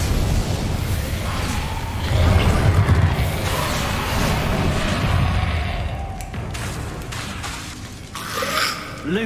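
Confringo fire-blast spell from Hogwarts Legacy, a dense, loud wash of booming, crackling explosive noise lasting throughout, with a heavier burst early on and shattering, popping debris toward the end; no speech.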